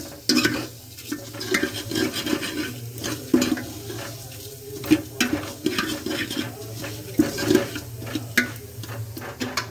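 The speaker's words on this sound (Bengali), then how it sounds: "এখানে বাবা দিয়েছে ডাল তেলে, মানে মুগের ডালটা ভেজে নিচ্ছে" Moong dal frying in oil in a home kitchen for khichuri, heard as a steady low sizzle with frequent scraping and clattering stirring strokes from a utensil against the pan, close and fairly loud throughout.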